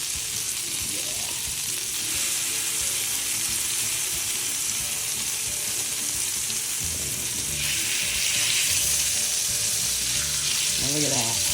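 Garlic cloves frying in a pan make a continuous close sizzle with bubbling crackle, swelling louder near the end as the pan is stirred.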